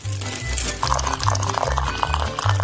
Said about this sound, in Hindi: फिर एक ग्लास में इसे डालेंगे और फिर उबलते हुए पानी को डालेंगे।